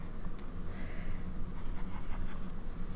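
A TWSBI 700R fountain pen with a medium nib writes on paper in a faint, continuous close-up scratch with quick strokes and no speech.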